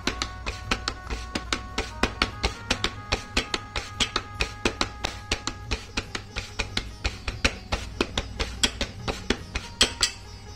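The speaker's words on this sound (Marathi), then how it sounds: "छान आपण भाकरी थापून घेऊ" Bhakri flatbread dough is patted by hand in a steady rhythm of sharp, close slaps and taps, roughly two or three per second, continuing throughout.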